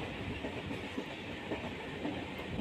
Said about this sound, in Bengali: অনেকটা ফাঁকা ট্রেন, দুদিকে বিস্তীর্ণ ধান জমি, তার মাঝখান থেকে আমাদের ট্রেন ছুটে চলেছে।